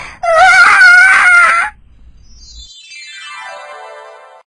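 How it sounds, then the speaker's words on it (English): A girl lets out a loud, drawn-out scream lasting over a second, followed by a fainter descending whistling tone fading out, in a spooky haunted-house children's story. "Angelina screamed loudly."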